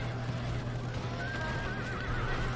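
Horses whinny in the Rome: Barbarian Invasion video game, one rising, wavering neigh ringing out over a steady low battlefield hum.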